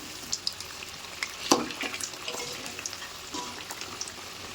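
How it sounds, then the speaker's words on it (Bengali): Cauliflower pakoras deep-fry in hot oil at home, giving a soft, steady bubbling and sizzle with scattered ticks and clinks of stirring, fairly quiet and close, with no talk. "পকোড়াগুলিকে ভালোভাবে নাড়াচাড়া করে আমি একটা ছাঁকনির সাহায্যে তেল ঝারিয়ে তুলে নেব"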